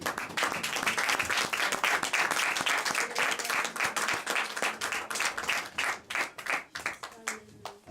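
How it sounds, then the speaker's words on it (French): A church congregation applauds together, a dense, loud wash of clapping that holds steady for several seconds, then thins into scattered claps and fades toward the end. "Nous tous et acclamons le Seigneur qui est ici."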